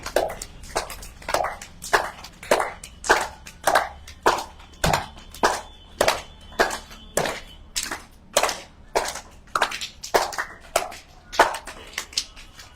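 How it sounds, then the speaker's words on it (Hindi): Rhythmic hand clapping during a yoga exercise, with claps made both in front of and behind the body, a long run of evenly spaced, loud, close claps with a brief thump partway through and no speech. "आगे पीछे दोनों ताली बनना चाहिए"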